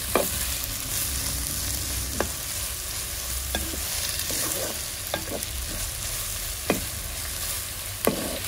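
Ingredients for a mutton and cassava biriyani frying in a pan, giving a continuous sizzle with occasional sharp utensil taps and scrapes from stirring, close and steady with no talking.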